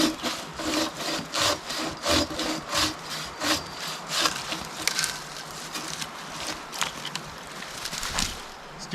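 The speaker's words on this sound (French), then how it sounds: "Il y avait une scie là dans le shelter, du coup je vais scier un peu." Rhythmic back-and-forth rasping of a hand saw biting through wood at a shelter in Denmark, close and steady, strokes slowing slightly toward the end.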